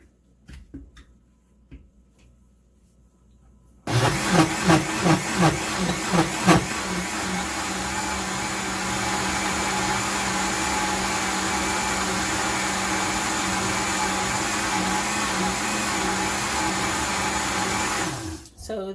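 A blender whirs Haitian epis seasoning into a paste, starting with a few choppy pulses and then running in a loud, steady roar before cutting off.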